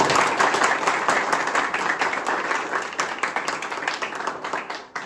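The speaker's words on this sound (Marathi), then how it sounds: "त्या शिक्षकांसाठी जोरदार टाळ्या झाल्या पाहिजे" An indoor audience applauds the teachers at a technical institute's anniversary celebration, with loud, dense, sustained clapping that tapers slightly toward the end.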